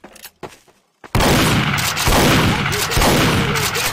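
Gunfire in a roleplay video game: after a few quiet taps, a loud, sudden burst of rapid shots erupts and continues in dense repeated volleys, close and dominant.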